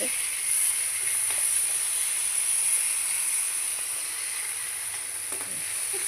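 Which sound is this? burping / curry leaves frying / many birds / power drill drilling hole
curry leaves frying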